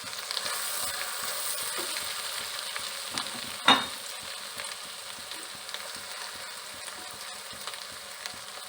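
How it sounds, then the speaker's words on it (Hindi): Minced meat cooked in ginger-garlic paste sautés with spices in a pan for bitter gourd keema, giving a steady soft sizzle with scraping stir strokes throughout and one sharper clatter near the middle. "इसे अच्छे से सौटे करेंगे।"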